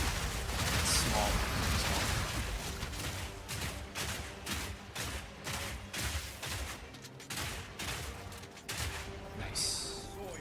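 Crossbow in Path of Exile firing rapid three-shot bursts, dense repeated cracks and thumps in an ongoing game soundscape, with a voice talking over it.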